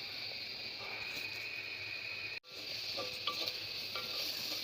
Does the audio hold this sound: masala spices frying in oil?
yes